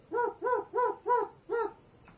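A pet crow makes dog-like barking calls: five hoarse, evenly spaced barks, close and clear, with no other sound.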